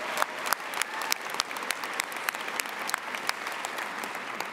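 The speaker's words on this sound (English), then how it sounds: "A big round of applause for Marit Stiles." A convention audience at an OPSEU/SEFPO gathering applauds steadily, dense overlapping claps with a few sharp louder ones standing out, the whole crowd heard fairly close and alone without talk.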